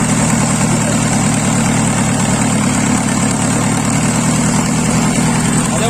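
A Mahindra Bolero diesel engine idles steadily after a cold start, a loud, close, continuous low rumble with no talk over it.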